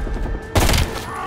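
A single loud gunshot burst fired in Call of Duty Black Ops Cold War, a sharp broadband crack with a thudding low end, standing out briefly against quieter game ambience.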